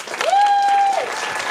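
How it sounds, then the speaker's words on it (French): An audience at a local talent show in Damelevières applauds a dance by six teenage girls: a burst of close clapping topped by one loud, sustained whistle. "On peut les applaudir."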